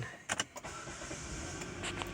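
A 2011 Kia Sorento engine cranks and catches with a couple of quick clicks, then settles into a steady low idle, heard close up without speech.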